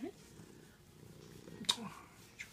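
A cat purrs faintly and close by in a quiet room, a soft low rumble broken by a few light rustles and clicks, with a voice speaking softly nearby.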